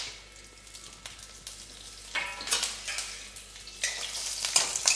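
Mustard seeds, slit green chillies and curry leaves sizzle and crackle in hot oil, a steady hiss that swells louder around the midpoint and again near the end, with faint pops throughout.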